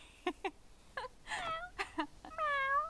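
A voice imitates a cat, meowing several times in a row, the last meow drawn out and wavering.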